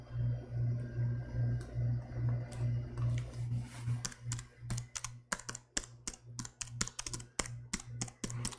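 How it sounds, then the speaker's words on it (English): Typing on a computer keyboard during a gaming PC build starts after a few seconds as a quick, irregular run of close clicks and keystrokes over a steady low electrical hum. "I shouldn't be typing it in here."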